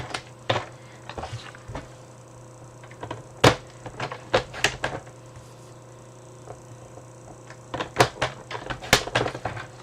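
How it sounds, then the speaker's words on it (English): Paper photo tags being trimmed with scissors, a series of sharp close snips and clicks in irregular bursts with quiet pauses between, no talking. "Now, I never know quite where to cut these."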